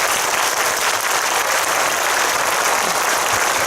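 Steady, dense audience applause fills the hall without a break as the cast of the film Namhansanseong leaves the stage at a live event.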